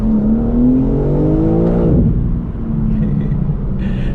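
A BMW M2 set to rear-wheel drive accelerates hard with wheelspin. The engine note climbs loud and close from the cabin, drops sharply at a shift and then rumbles on, with no talking.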